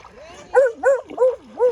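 A friendly red-haired shelter dog, eager to greet every other dog, lets out four quick, close whining yips in a steady rhythm.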